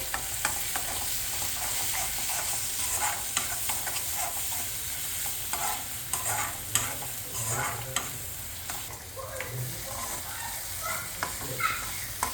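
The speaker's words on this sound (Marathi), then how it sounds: "याला एक 7 ते 10 मिनिट तेलामध्ये छान परतायचं आहे।" A poppy seed and coconut mixture fries in oil while being stirred, a continuous soft sizzle with regular scraping and tapping strokes of the spoon throughout, and no talking.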